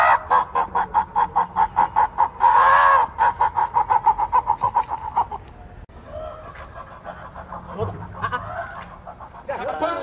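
A person imitates a chicken with rapid, rhythmic clucking sounds, loud and close, in the lead-up to Christmas, followed by excited talking and laughter from several people.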